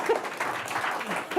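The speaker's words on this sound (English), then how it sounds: "Give them a round of applause." A live podcast audience gives a brief burst of applause, with a short wash of clapping at moderate level that carries through the moment.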